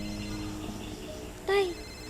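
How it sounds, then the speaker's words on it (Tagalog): A cellphone ringing briefly at moderate volume, a short melodic tone rising above a background hum and faint voices. "parang naririnig ko po yung cellphone ni Drew"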